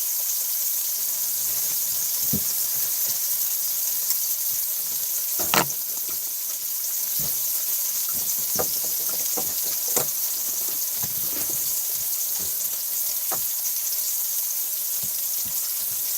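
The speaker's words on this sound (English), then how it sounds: "Got dinner on as well, hence the sizzling noises." Continuous hissing sizzle of food frying in a pan, with scattered small pops and crackles throughout.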